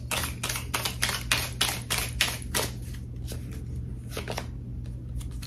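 Tarot cards being shuffled, a quick run of crisp riffling snaps that tapers into softer, scattered card slaps, close and clear with a low hum underneath and no talking.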